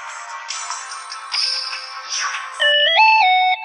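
Mobile phone ringtone sounding during a Duel Links game session, a bright synthesized melody of sustained electronic tones that steps up in pitch, loud and close, with no talk over it.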